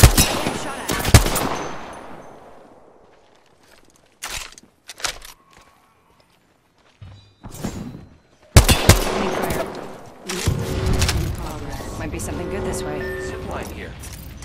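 Gunfire in Apex Legends comes in repeated bursts of sharp shots, some rapid and automatic, with quiet gaps between them and a long heavy volley toward the end. The shots are loud and close against a game background.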